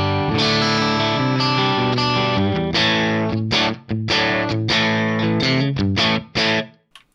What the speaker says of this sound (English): I'm using a PRS Custom 24 plugged straight into the AXE-FX 3, ODS-100 clean model